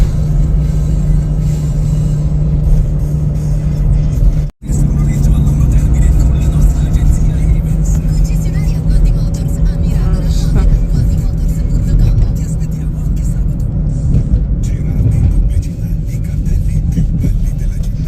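A car drives along a narrow road in Italy, its engine rumble and road noise steady and close from inside the cabin, with people talking over it.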